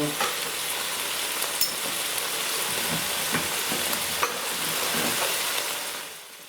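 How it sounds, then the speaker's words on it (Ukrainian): Seasoned meat for shawarma frying in a pan with a constant close crackling sizzle, occasional louder pops and light stirring scrapes, easing off at the end. "Додаю до м'яса приправу, там є сіль і смажу"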